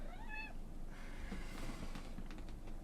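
A pet cat gives a single short, rising meow at the start, fairly clear over a quiet room hum, followed by faint shuffling and soft clicks.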